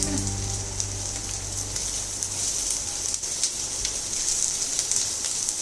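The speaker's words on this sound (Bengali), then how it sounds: "পেঁয়াজটা আগে একটুখানি ভেজে নেব।" A large onion, finely chopped, frying lightly in oil in a pan gives a soft, steady sizzle and crackle that runs unbroken and fairly quiet throughout.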